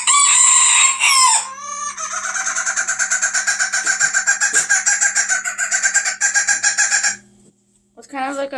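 A Japanese chicken lets out a squawk, then a long run of rapid, rhythmic cackling crows that sound almost like laughter or choking, loud and close. A brief shrill squawk follows after a short pause.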